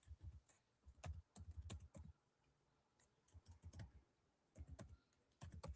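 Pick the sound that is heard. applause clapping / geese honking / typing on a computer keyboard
typing on a computer keyboard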